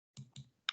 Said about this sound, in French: je vais cliquer sur ce formulaire, bouton de souris de droite